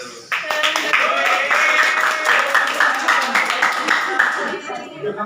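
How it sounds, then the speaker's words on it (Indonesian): Classroom students clapping together during a history lesson, a brisk burst of many hands that holds steady for several seconds and then tapers off. "beri tepuk tangan dulu"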